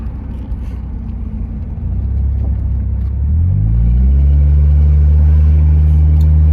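An off-road Honda Civic on 29-inch tires with chopped fenders and no muffler rumbles through a corner, its low engine drone swelling and rising in pitch as it accelerates, close and loud inside the cabin, with no talking.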